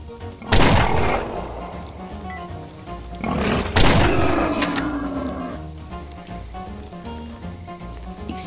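Two loud, close shotgun blasts in the video game Stalker Old World, each a sharp crack that fades into a long rumbling decay, about three seconds apart, with no talking.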